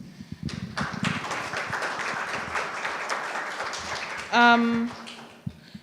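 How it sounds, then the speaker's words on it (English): Audience applause at a symposium on cybersecurity and digital identity for Africa, moderate clapping from a seated crowd that builds and then thins, with voices over it and a brief tonal tone near the end. "Round of applause for our previous two speakers, Professor Hanan and Andrew Musoke, please"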